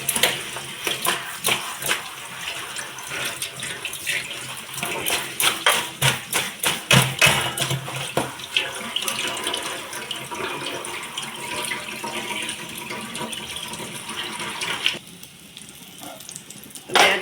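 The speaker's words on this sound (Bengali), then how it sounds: "তার মধ্যে আমি ফুলগুলো একটু ভালো করে ধুয়ে নিয়ে আগে" Pumpkin flowers are rinsed under a running kitchen tap, a continuous splashing stream broken by rapid irregular spatters and patters as the petals are handled, which thin out to a quieter trickle near the end.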